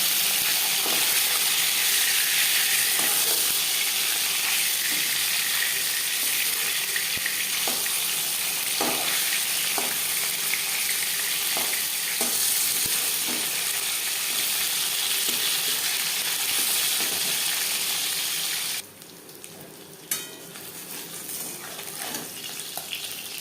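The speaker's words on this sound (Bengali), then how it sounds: "প্রথম ব্যাচে মাছ ভাজা হয়ে গেছে" Chitol fish fillets sizzle steadily in hot oil in a pan, a dense continuous frying hiss with small pops and stirring clicks, until the sizzle suddenly drops near the end, leaving quieter crackles and a few clatters.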